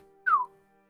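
A person gives one short, bright whistle that glides downward in pitch, heard close and alone over a faint steady hum.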